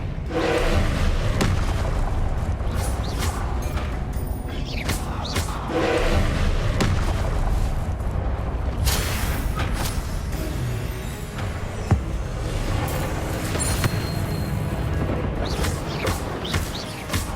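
Repeated booming blasts and thuds from Confringo and Expelliarmus spells in Hogwarts Legacy, arriving one after another amid a dense, busy fight with scattered crashes and impacts throughout.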